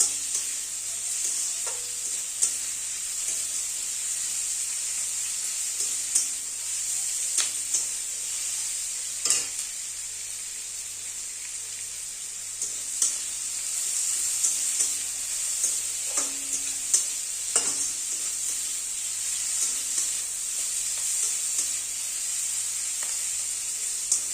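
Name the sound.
frying chopped onion for ghugni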